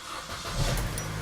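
A Chevrolet Cruze engine starts and settles into a steady close idle with a low rumble, brief and without speech.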